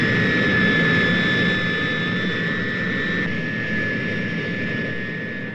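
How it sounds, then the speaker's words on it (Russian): A Soviet laboratory aircraft following the carrier plane of a hydrogen bomb test takes off with a loud, steady jet roar and high whine that fades slowly, with no voices. "Следом за носителем в воздух поднимается самолет-лаборатория."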